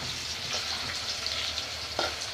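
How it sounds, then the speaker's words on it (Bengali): New potatoes fry in oil in a pan on a home stove, a steady close sizzle and crackle that runs throughout with a few brief louder spits. "এখন এই যে চুলায় আলুটা ভাজে নিতেছে।"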